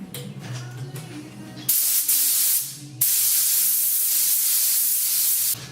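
A spray gun hisses in two loud, steady bursts of acid catalyst paint, with a brief pause between them, after some quieter handling noise at the start.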